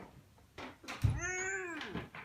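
Cat giving one drawn-out meow indoors, rising then falling, preceded by a few soft knocks and rustles, fairly close and clear.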